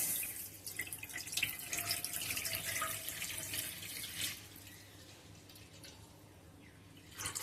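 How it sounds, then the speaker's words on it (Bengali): Cow's milk is poured into a little water in a wok, giving a steady trickling, faucet-like pour that runs close and moderately loud for several seconds, easing off toward the end, with no talk. "আমি এই জলের মধ্যে দুধটা দিয়ে দিচ্ছি।"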